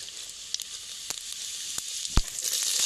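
Cumin tempering sizzling in hot oil for village-style urad dal, a steady bright hiss with a few sharp pops and crackles scattered through it, heard alone.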